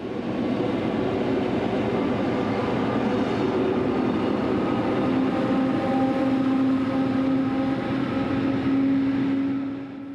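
A Rhaetian Railway train running toward Davos Platz with 1953-built locomotive 606 at the rear gives a steady, fairly loud rolling drone with faint tonal whines rising near the end before it eases off.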